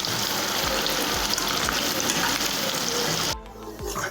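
Beef kabab frying in hot oil, a dense, loud, steady sizzle with crackling pops that abruptly drops away near the end to a quieter hiss.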